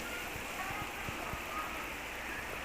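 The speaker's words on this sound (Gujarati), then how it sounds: "સરસ મજાનો વરસાદ આવે છે" Steady rain falling outdoors, a continuous broadband hiss of drops with a few soft, low thuds scattered through it.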